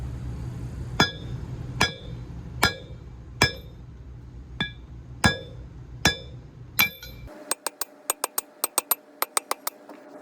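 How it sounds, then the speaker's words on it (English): A 3-pound sledgehammer pounds wheel studs out of a hub with sharp, ringing metallic strikes about one second apart, followed by a quicker series of lighter, evenly spaced clinks, all close and with no voices. "Get yourself a good 3-pound sledgehammer. Okay. Just pound those studs out of there."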